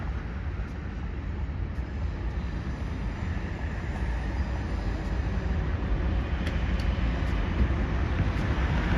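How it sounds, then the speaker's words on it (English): A continuous low rumbling roar of a passing train, steady and broad, with faint metallic squeals high above the drone. "We just heard your train going by."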